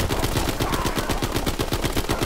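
Rapid gunfire from Call of Duty: WWII, a dense run of loud close shots in quick succession filling the whole stretch, no voices.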